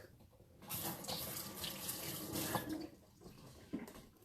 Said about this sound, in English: Going to wash my hands.